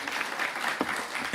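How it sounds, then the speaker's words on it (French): Congregation applauds during a church service, a brief wash of steady clapping from many hands filling a hall, with no voices over it. "Voilà, ce sont des applaudissements"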